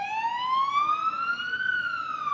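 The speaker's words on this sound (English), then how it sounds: "An ambulance arrived on the scene." A siren wails steadily and close, a single smooth tone rising slowly then dipping slightly, clear and alone without talk.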